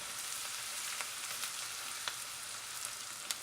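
Mustard seeds, curry leaves, ginger, garlic and green chillies hit hot oil for a Kerala duck curry, giving a steady close-up sizzle broken by scattered sharp pops and crackles.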